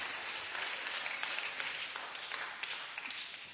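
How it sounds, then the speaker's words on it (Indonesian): Congregation applauding at a New Year's Eve church service, with soft, scattered clapping kept at a distance and fairly faint, running steadily throughout. "Kasih tepuk tangan untuk kemuliaan nama Tuhan Yesus Kristus."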